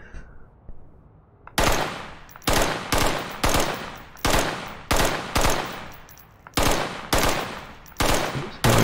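Machine gun fire in a VR shooting game played with a ProTube gunstock, loud close bursts of rapid shots starting after a quiet moment and repeating in short volleys separated by brief gaps.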